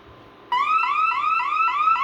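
Bosch Radionics 4012/8012 security panel alarm set off by a front motion sensor: a loud electronic siren starts abruptly and warbles in fast repeating upward sweeps.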